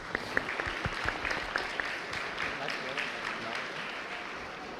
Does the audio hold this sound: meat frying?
no